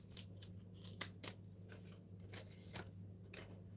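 Scissors snip through paper being cut out of a page for a junk journal, a few quiet crisp cuts spaced irregularly over a low steady background hum.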